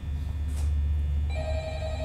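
A telephone rings in a video game during a charity gaming stream, a steady electronic tone over a low background hum, with no talk.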